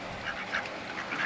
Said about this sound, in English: And there's just a whole bunch of ducks here.